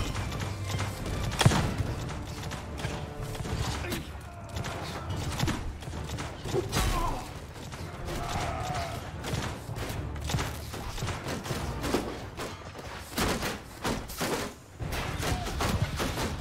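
Cannons fire in a battle in Mount & Blade 2: Bannerlord with the Warhammer Fantasy mod, heavy booms amid continuous clattering combat, hooves and creaking machinery, with a shout briefly heard.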